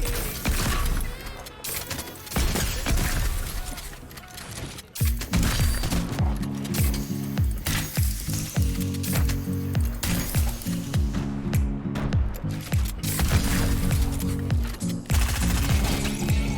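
In Fortnite, a wall breaks amid rapid gunfire: a dense, loud clatter of repeated shots and impacts fills the whole stretch, with bursts continuing steadily and a brief dip in intensity midway.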